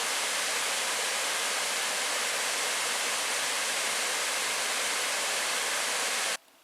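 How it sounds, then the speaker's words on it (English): Steady broadband rush of Shining Cloud Falls waterfall in the Porcupine Mountains, running at low water, loud and constant before cutting off abruptly near the end. "Now I'm coming up to the Shining Cloud Falls overlook."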